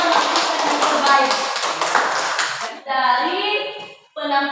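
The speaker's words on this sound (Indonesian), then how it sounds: "Jadi tepuk tangan dulu untuk seluruh kelompok yang telah melakukan yang terbaik." A classroom of pupils and teachers claps for the presentation groups in an Indonesian primary lesson on food webs and food chains. Brisk, dense applause comes first, then two shorter bursts of clapping separated by brief pauses.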